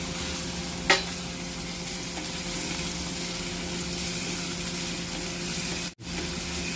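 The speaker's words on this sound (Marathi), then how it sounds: "कांदा आपल्याला छान परतून घ्यायचा आहे मिडियम गॅसवर" Chopped onion sautés in oil with garlic over a medium gas flame for chicken masala, making a loud, steady hissing sizzle close by, with an occasional faint tap and a brief dropout near the end.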